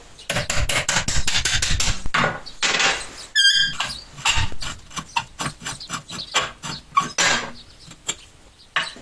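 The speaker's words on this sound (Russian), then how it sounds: "Теперь вставляем ее в тиски и зажимаем. Откручиваем крышку." A metal cap is twisted off a pipe held in a bench vise, giving repeated squeaky grinding and rasping bursts with a few sharp knocks, close and fairly loud with no talk.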